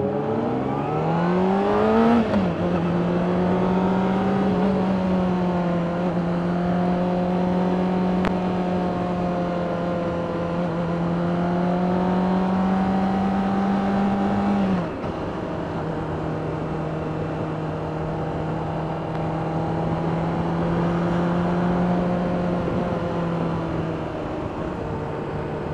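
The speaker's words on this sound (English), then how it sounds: "Beautiful little Hayabusa." A Suzuki Hayabusa motorcycle rides alongside with a steady, close engine drone whose pitch climbs, holds and shifts down again as it cruises for nearly half a minute.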